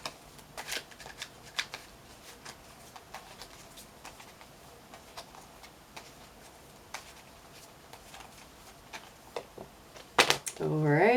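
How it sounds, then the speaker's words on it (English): A deck of chakra crystal tarot cards is shuffled close by: steady soft riffling and flicking taps, then a louder quick burst of card noise, followed by a brief voice at the very end. "Let's pull a chakra crystal card."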